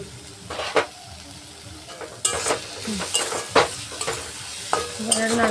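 Vegetable peels frying in a wok while a spatula stirs them, close sizzling broken by repeated sharp scrapes and knocks against the pan, with no talking.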